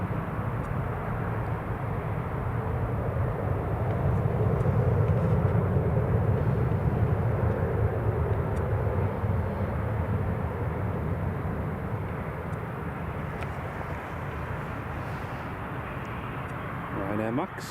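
An airplane climbing away from Newcastle International Airport into cloud, a loud sustained jet roar that holds steady for many seconds before easing slightly toward the end.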